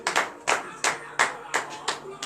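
A church congregation at morning prayer claps in acclamation of Jesus, a steady rhythmic beat of sharp hand claps in pairs, close and distinct, with a faint voice underneath.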